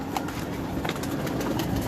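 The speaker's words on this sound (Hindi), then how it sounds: "ये जी साधना कबूतर है हमारे" Rooftop pigeons coo softly in a short burst of low, rolling calls, fairly faint against a steady background hiss.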